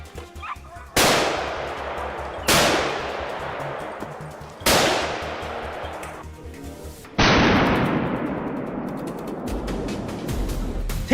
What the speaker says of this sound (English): he pulled the trigger the instant his prey came into view. A swift, precise shot